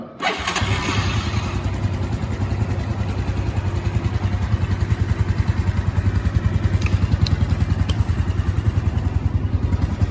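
A motorcycle engine held at a raised speed above idle during a charging and lighting system check, running steady and loud with a rapid even firing pulse throughout, close by with no talk.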